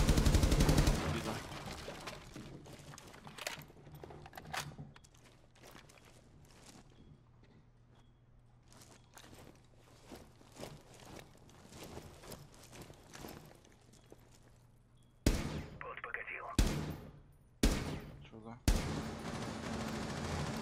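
Gunfire in Rainbow Six Siege: a sharp burst opens, then scattered quiet clicks and footsteps, and near the end several loud single shots crack out in quick succession, with voices talking in between.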